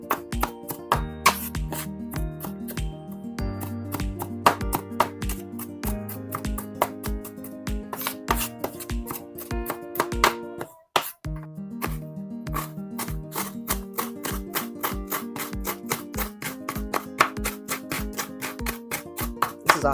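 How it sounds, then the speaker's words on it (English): A knife chops onions on a board in a home kitchen, with rapid, steady strokes in a brisk rhythm that continue almost throughout. The strokes sound close and clear over background music. "Chopping my onions this way."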